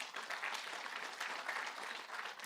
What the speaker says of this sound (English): So I think a round of applause to him once again.